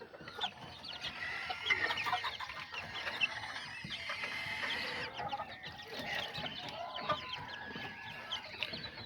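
Azteca Kikiriki roosters and hens cluck and murmur continuously around a backyard flock, a busy layered chatter of fowl at moderate distance with no talking.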